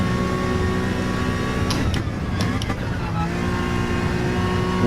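A 2017 Honda NSX engine in a racing video game at Suzuka, holding a loud, steady high-rpm drone with layered harmonic whine and brief gearshift blips partway through.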